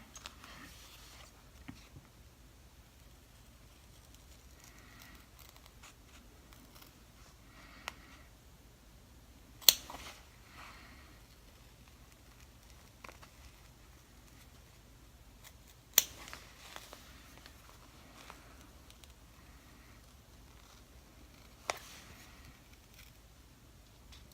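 Small scissors trim loose threads on an in-the-hoop embroidered ghost banner: a few sharp, isolated snips spaced seconds apart, close and quiet, with faint fabric handling between them.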